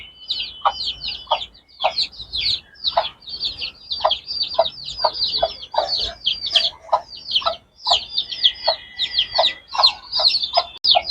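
Hens cluck steadily while pushing their way in under baskets, a dense stream of short, close calls repeating in quick irregular rhythm with no pauses.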